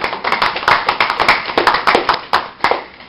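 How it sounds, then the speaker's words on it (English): A small audience claps for a young woman volunteer after a class demonstration on interpersonal communication, with brisk, fairly loud, dense clapping that carries on steadily on its own. "Let's give this lovely young lady a round of applause"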